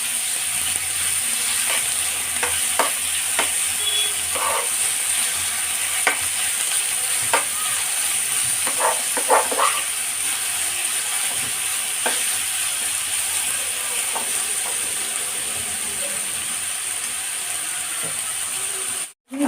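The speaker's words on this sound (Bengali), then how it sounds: "ভালো করে নেড়ে চেড়ে আমাকে চিকেনগুলো ভালো করে ভেজে নিতে হবে" Chicken pieces frying in a pan for egg rolls, a constant bright sizzle with repeated scraping and clacking strokes of a spoon stirring, close and without talk, until it cuts off abruptly.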